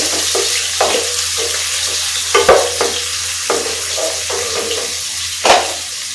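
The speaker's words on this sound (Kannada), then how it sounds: "ಈಗ ಎಣ್ಣೆ ಕಾದಿದೆ ಮತ್ತೆ ಈಗ ಈರುಳ್ಳಿ ಹಾಕೊಳ್ಳೋಣ ಈರುಳ್ಳಿ ಸ್ವಲ್ಪ ಕೆಂಪಾಗಬೇಕು ಕೆಂಪಾಗೋ ತನಕ ಸ್ವಲ್ಪ ಹುರ್ಕೋಬೇಕು ಎಣ್ಣೆಲಿ" Chopped onions frying in hot oil in a pan for a mushroom and fenugreek-leaf pulao, a steady close sizzle broken by several sharp stirring scrapes and clacks, with no one talking.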